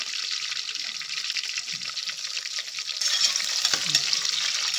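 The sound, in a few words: onion frying in a pan with mint and coriander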